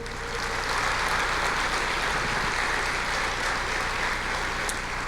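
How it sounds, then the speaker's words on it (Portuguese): A church congregation applauds during a sermon, a sustained, thick wash of clapping from many hands that holds steady throughout without speech. "Você pode aplaudir o Senhor?"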